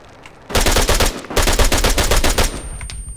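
Automatic gunfire in ArmA 3, two loud, close bursts of rapid rhythmic shots separated by a brief gap, ending with a fading tail.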